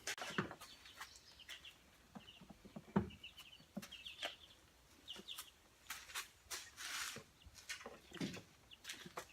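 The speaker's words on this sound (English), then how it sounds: "Now I'll put my chickens and ducks back in here." Baby chicks and young ducks peep and chirp in a brooder, with a busy run of short, high, repeated calls and some soft rustling and knocks nearby; no one speaks.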